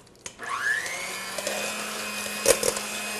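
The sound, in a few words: electric mixer starting to whip chocolate pudding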